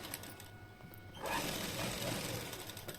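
A sewing machine stitches a blouse with a steady mechanical whir that speeds up and grows louder partway through, close and continuous with no talk.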